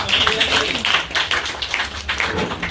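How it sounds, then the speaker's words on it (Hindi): Enthusiastic clapping from the audience at a Class 10 success celebration and topper awards event, the separate hand claps loud and close, with some voices underneath. "एक बार जोरदार ताली हो जाए"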